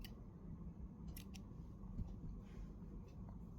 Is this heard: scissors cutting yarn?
yes